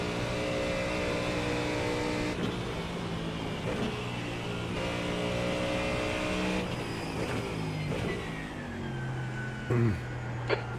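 Simulated GT3 Mustang race cars roar continuously in iRacing during a Nürburgring endurance race, the engine droning and shifting pitch as cars run close together, with brief louder bursts near the end.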